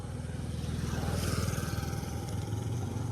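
KTM Duke motorcycle engine running steadily at close range, a low, continuous pulsing throb that stays loud throughout with no clear pauses.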